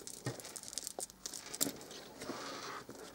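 A velcro-fastened fabric rain cloud is pulled off the page of a handmade soft cloth book, giving quiet rasping, crinkly tears in a few short bursts close by.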